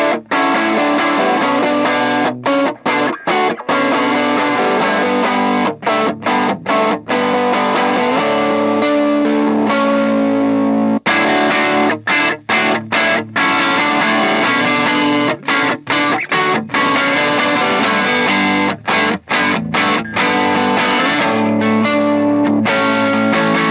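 Electric guitar played through a Rook overdrive pedal, a Tube Screamer-style drive with flexible EQ set to counter the mid hump; dense sustained distorted chords ring loud and alone, broken by brief choppy stops, with no talking.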